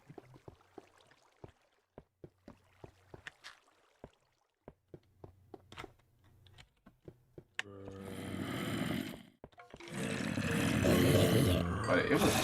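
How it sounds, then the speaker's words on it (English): A Minecraft mob grinder farm runs in an old version of the game. Sparse clicks and short thuds are followed by loud, dense bursts of growling, roaring mob noise that swell and continue to the end. "I think we can probably turn this farm off at this point. Because I don't really need it to keep going, and it's getting a little obnoxious, so turn this mob grinder off"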